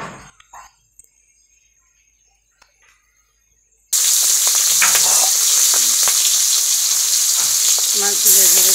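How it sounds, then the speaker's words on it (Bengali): Pieces of hilsa fish frying crisp in hot oil: after a near-silent stretch with a few soft clicks, a loud, close sizzle bursts in and holds steady, with occasional crackles and stirring. "এখন মাছগুলো ভেজে নেব।"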